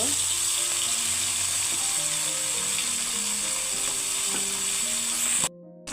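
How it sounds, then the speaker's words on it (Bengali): Bata fish frying in a home kitchen pan: a dense, loud, steady sizzle and crackle with faint clinks underneath, cutting off abruptly right at the end. "এখন এই যে বাটা মাছগুলো আমি বেজে নেব"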